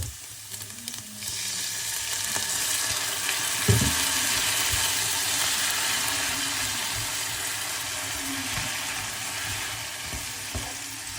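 Leftover lechon kawali pork sizzles steadily in a hot pan as Silver Swan soy sauce is poured in, a dense continuous frying hiss with a brief sharper burst partway through and faint clatter, no voices.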